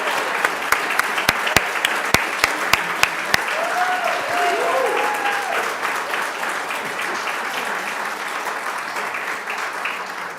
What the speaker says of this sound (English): it's Shelly Reynolds we need to be clapping for